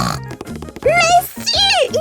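A cartoon pig lets out a quick run of nasal, squealing oinks and grunts, close and loud, with a voice-like character throughout.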